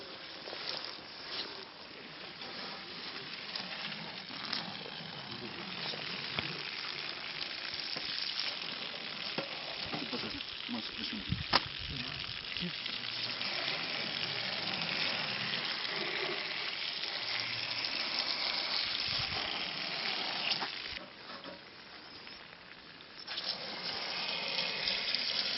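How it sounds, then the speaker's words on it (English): Water rinses sediment-laden material onto fabric during a flotation cycle, a steady rushing, splashing wash that runs continuously and fairly close, easing briefly near the end before picking up again. "clean it out using water to transfer the material onto the fabric"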